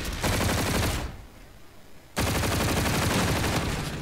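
Rapid automatic gunfire in Call of Duty: Infinite Warfare, two loud sustained bursts separated by a short lull, close and dense with no talking.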